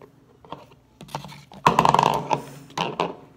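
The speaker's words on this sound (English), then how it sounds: "let's peel the sticker off and see what sticker" A sticker being peeled off a toy gives a close, crackly, rustling tear that builds in the middle and trails off, with a few lighter handling rustles before and after.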